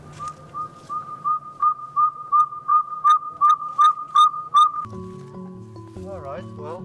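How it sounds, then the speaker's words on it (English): Electronic playback of a saw-whet owl call in a forest at night sounds as a steady series of evenly spaced whistled toots, clear and fairly close, with the sound shifting to other tones at the end. "It can take several hours for the electronic calls to attract the owls"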